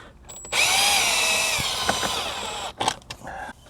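Power drill whirring steadily for about two seconds while loosening T15 bolts on trim in a 2021 GMC Sierra AT4, followed by a few clicks and clunks of handling the tool.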